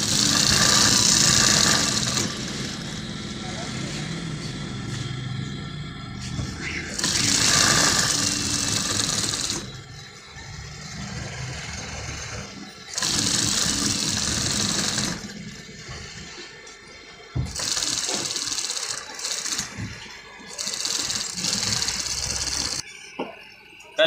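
A sewing machine stitches kurta fabric in several loud, close whirring runs, stopping and starting between bursts, with quiet handling noise in the pauses.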